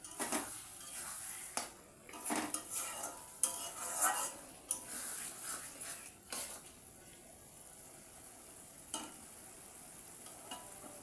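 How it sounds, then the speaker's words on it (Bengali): Bombay duck fish curry being stirred in a pot: repeated scraping and clinking of a utensil against the pan in uneven bursts, over a soft sizzle that fades toward the end. "হালকা করে নাড়তে থাকবো সমানে, বারবার নাড়বো যাতে নিচে না লেগে যায়"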